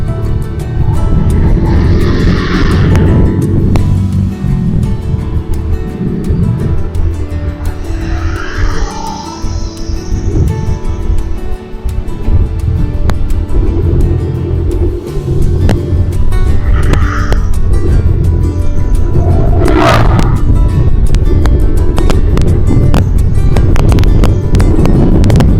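Busy traffic rolls along the former Citarum toll road near the Rajamandala bridge, a loud continuous roar of passing vehicles close by, with heavy engines swelling and fading and occasional wind buffeting.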